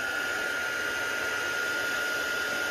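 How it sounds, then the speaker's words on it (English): A heat tool blows steadily over ink sprays on a stamped card, a constant whirring hum with a high motor whine, close and unbroken throughout. "then I'm going to get my heat tool and I'm going to dry that just as it is."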